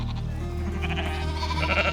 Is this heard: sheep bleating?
yes